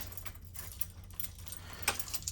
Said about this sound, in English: And I just unlock the door.